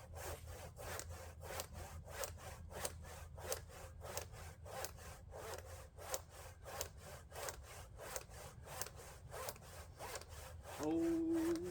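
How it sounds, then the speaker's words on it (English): A hand saw cuts through a log in steady back-and-forth strokes, about two per second, close and rasping, ending with a brief tonal hum. "so I'm sawing"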